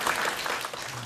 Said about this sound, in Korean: 또 박수를 치시는가요?